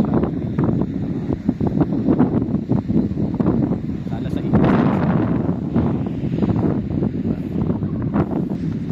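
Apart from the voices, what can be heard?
strong wind at the beach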